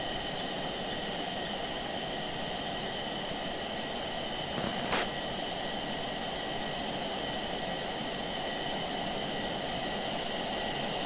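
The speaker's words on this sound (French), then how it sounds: "Il y a déjà un avion qui se barre." An airplane departs in a flight simulator video game, a continuous, even engine drone and rushing roar holding steady throughout, with no talking.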